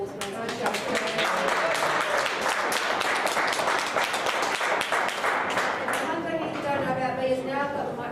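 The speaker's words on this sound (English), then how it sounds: "Can we have a round of applause, please?" A burst of clapping from a group fills the room, dense and sustained, then thins out toward the end as a few claps linger.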